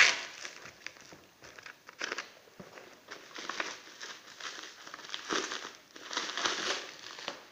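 Product packaging holding a speedometer panel and cable for a Green 150 Sport motorcycle is cut open and unwrapped, with close plastic crinkling and crackling in irregular bursts.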